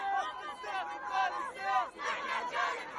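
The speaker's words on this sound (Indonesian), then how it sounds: "Kerumunan warga Palestina bersorak dan berpelukan saat berita menyebar bahwa gencatan senjata dan kesepakatan pembebasan tawanan telah dicapai antara Israel dan Hamas." A large crowd of Palestinians in Gaza cheers a ceasefire between Israel and Hamas, with many voices shouting and chanting together in loud overlapping waves that rise and fall.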